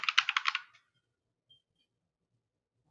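Quick bursts of key presses on a computer keyboard clatter close and crisp for about half a second, then the room falls silent.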